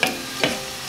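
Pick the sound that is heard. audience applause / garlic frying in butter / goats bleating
garlic frying in butter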